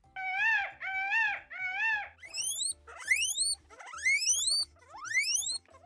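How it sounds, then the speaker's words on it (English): Peacock calling in a loud series of rising, wailing cries: three even, nasal calls followed by several longer, upward-sweeping screams, close and clear with no talk. "Peacock."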